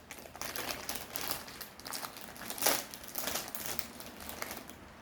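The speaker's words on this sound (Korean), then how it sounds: "이제 고스빵 한번 뜯어볼게요" A crinkly plastic wrapper on a Pokémon bread is torn open up close, a run of sharp rustles and crackles with one louder rip in the middle, then softer crinkling.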